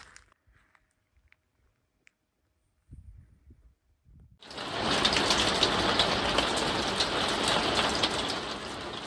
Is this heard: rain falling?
yes